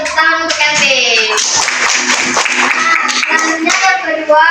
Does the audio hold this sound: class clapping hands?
yes